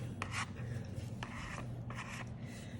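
Something rubs across an art journal page in short dry rasping strokes, several in a row, quiet and close with a faint background hum.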